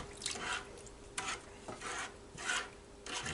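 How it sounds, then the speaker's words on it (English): A spoon stirring an apple pie mixture, a soft scraping and rubbing in a bowl. Several quiet strokes come in an irregular rhythm, close up and heard alone. "We'll give this a stir to combine it."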